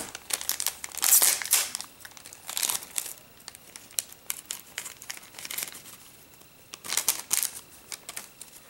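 Scissors snip and crinkle through the plastic wrappers of NFL Teenymates blind bag packs, in bursts of sharp rustling and crumpling close by with short pauses between.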